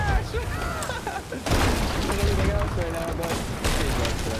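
Shots crack from a sniper rifle in a Sea of Thieves pirate battle, with a sharp loud burst that stands out amid ongoing game noise and a player talking.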